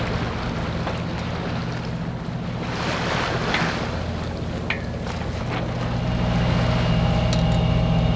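A sailboat motors across sea waves off Brazil in calm air, its engine a steady low drone under the constant rush of water along the hull, close and fairly loud, with no talking.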